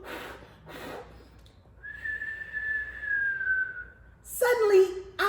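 A person's voice imitates a whistle, a single long, steady whistled note held for a couple of seconds between bursts of breathy sound, close and clear.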